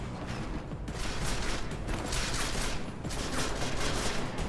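Gunfire rattles in bursts in the video game Deus Ex: Mankind Divided, dense and loud throughout with short pauses between volleys.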